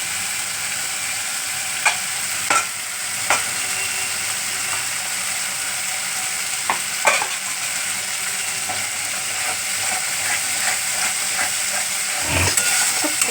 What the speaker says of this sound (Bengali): বেশ খানিক্ষণ নাড়তে হবে যতক্ষণ না তেল বেরোবে